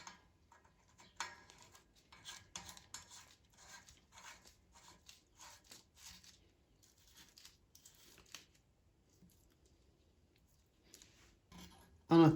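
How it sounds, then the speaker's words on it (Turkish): Metal lock ring being fitted and turned clockwise onto a Shimano thru-axle rear hub during a service, giving soft scraping, rubbing clicks in irregular bursts, close and quiet, ending in a louder knock. "Daha sonra kilit çemberini takıyorum. Saat yönüne doğru çeviriyorum."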